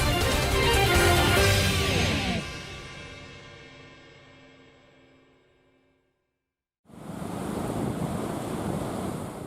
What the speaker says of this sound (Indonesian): Tinggi ombak mencapai lebih dari 2 meter, disertai hujan dan angin kencang.